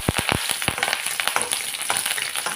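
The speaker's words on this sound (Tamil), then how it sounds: "பூண்டு போட்டிருக்கேன், கருவேப்பிலை போட்டிருக்கேன். இது நல்லா பொரியட்டும்." Garlic and curry leaves fry in hot groundnut oil, giving a steady crackling sizzle with sharp pops near the start and continuous spattering throughout, close and fairly loud.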